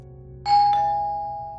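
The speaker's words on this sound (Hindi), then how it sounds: "शाम को लगातार बजती घंटी की आवाज ने अभिनव को जगा दिया।" A doorbell rings once, a clear electronic ding-dong that sounds suddenly over a quiet background hum and then rings out slowly, decaying over about a second.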